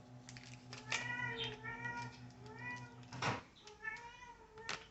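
A house cat meows repeatedly near the microphone, several drawn-out, rising and falling calls over about five seconds, with a steady low hum in the background.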